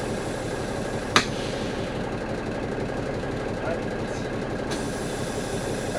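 An engine fitted with new exhaust stacks idles steadily with a low, knocking rumble, interrupted by a couple of sharp metallic clacks; the sound is moderately close and unbroken by talk.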